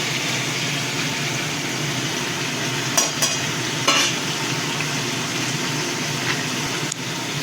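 Turmeric, chilli, cumin and coriander powder sizzle steadily while being sautéed in a pan, a continuous frying hiss broken by a few short scraping stirs of a spoon, with no voices.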